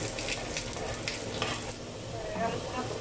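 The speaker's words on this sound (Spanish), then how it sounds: "Agregamos la cebolla con mucho cuidado." Onion added to a hot pan for cebolla curtida to go with cochinita pibil, sizzling and crackling steadily at close range with some stirring, continuous and fairly quiet, with no talk.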